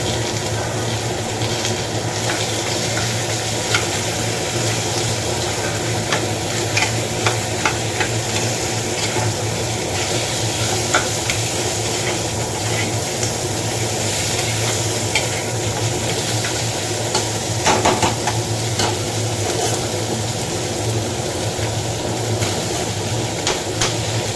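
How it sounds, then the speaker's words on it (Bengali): Dal with a fish head being tempered in a hot pan: a loud, steady hiss of frying oil that runs the whole time, with faint stirring scrapes and no talking. "ডালটা এবার সাঁতলাবো"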